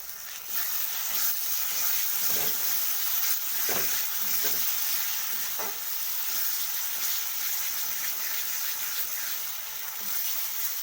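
Spice masala cooking down in a pan for paneer curry gives a continuous close sizzle and frying hiss, with a few soft stirring clatters and scrapes breaking through at intervals.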